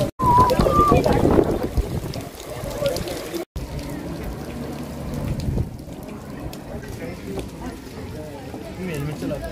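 Rain falls at Bhaktapur Durbar Square in Nepal, a steady patter that is heaviest at first and then eases, while people talk over it.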